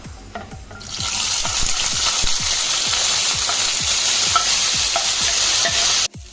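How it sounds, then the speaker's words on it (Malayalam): Chopped brinjal fries in oil in a pan, a loud steady sizzle starting after a second and running on with rhythmic scraping stirs, then cutting off abruptly near the end. "ഇനി ഇതിലേക്ക് അരിഞ്ഞു വെച്ചിരിക്കുന്ന വഴുതനങ്ങ നമുക്ക് ഫ്രൈ ചെയ്തെടുക്കാം."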